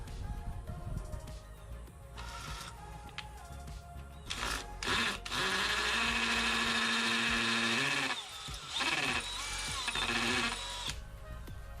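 A power drill with a 3/16-inch masonry bit whines in long, steady bursts with short pauses between, loud and close, grinding as it bores holes in concrete.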